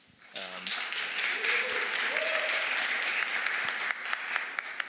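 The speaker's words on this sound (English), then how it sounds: "give him a round of applause" Audience applause at a university AI venture studio demo day: steady, full clapping from a crowd for about five seconds, with a brief voice heard over it near the start.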